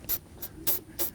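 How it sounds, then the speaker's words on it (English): Short hissing spray bursts of gun cleaner onto a cloth while cleaning a hunting rifle, four quick puffs spaced about a third of a second apart, close and fairly quiet. "And spray a little bit on the cloth,"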